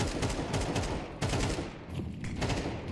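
Gunfire in the shooter game Toadium rattles in rapid, dense bursts, loud and close, with a brief lull near the end.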